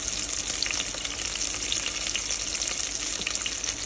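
Dried red chili frying in hot oil in a pan for a Telugu fish curry with raw mango, giving a dense, steady sizzle that stays loud and even throughout with no talking.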